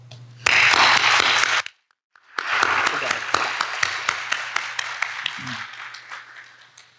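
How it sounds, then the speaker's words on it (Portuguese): A meetup audience in São Paulo applauds in a loud burst that cuts off briefly, then resumes as distinct, sharp handclaps that gradually thin and fade. "Cada um de vocês merece um aplauso."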